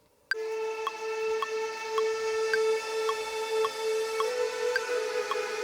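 A bright synth lead holds a steady tone while a second plucky layer pulses in a regular rhythm above it, starting abruptly and playing alone.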